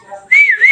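A pet talking bird whistles a bright, rising and falling tone after a brief soft murmur, close and fairly loud for under a second.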